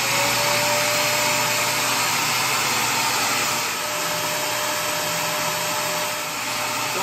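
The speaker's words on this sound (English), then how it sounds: "Let's go ahead and turn on this vacuum cleaner." A vacuum cleaner powered through an inverter from a 100Ah LiFePO4 battery whines steadily and loudly without pause, with a thin high tonal hum over dense airflow noise.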